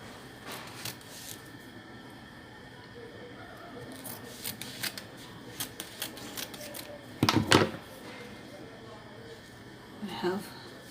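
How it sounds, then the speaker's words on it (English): Scissors cut a piece of fabric in two with scattered crisp snips, peaking in a louder burst of cutting partway through, while a voice talks quietly underneath. "Cut it into 2."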